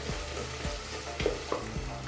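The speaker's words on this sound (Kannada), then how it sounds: "ಎಣ್ಣೆಯಲ್ಲಿ ಬೆರೆಸಿ ಒಂದು ಫ್ರೈ ಆಗೋವರೆಗೆ ಬಿಡಬೇಕು" A tomato bath mixture frying in oil, a close, steady sizzle broken by soft scraping knocks as it is stirred.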